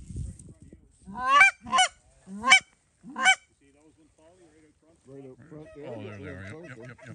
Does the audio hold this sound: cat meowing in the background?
no